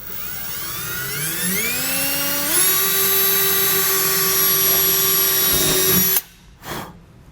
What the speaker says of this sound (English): But first I'm going to start with my pilot bit. And again, I'm going to go right in the center.